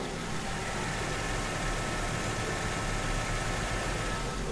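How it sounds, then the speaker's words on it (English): A car engine idles with a steady, even rumble heard close up, a constant noisy hum with no talking. "Let me take off the microphone and I'll put it near the engine."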